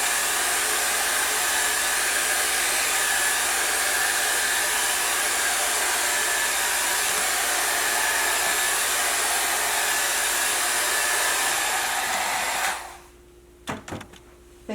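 A hair dryer blows steadily and loudly across wet acrylic pour paint on a canvas, a continuous rushing roar that cuts off near the end, leaving a few faint knocks and handling sounds.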